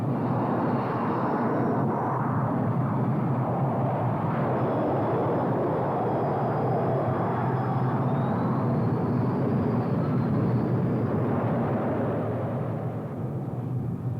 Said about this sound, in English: From a standing start, 20 tons of aircraft reach flying speed in 2 seconds flat.